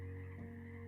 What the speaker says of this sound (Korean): 12시 이후에 우는 개구리 울음소리가 희미하게 들려왔다